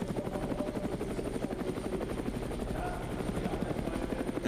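A helicopter flies over the Hockenheim race track, its rotor producing a fast, even chopping pulse under a steady engine whine. The sound is moderately distant and continuous.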